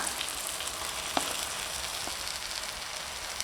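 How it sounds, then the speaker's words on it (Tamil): Mashed potatoes and peas frying in pav bhaji masala in a pan, giving a steady, fairly quiet broadband sizzle with a couple of faint ticks from stirring, no voices. "இப்போ மசித்த உருளைக்கிழங்குமே பட்டாணியும் சேர்த்திக்கலாம்."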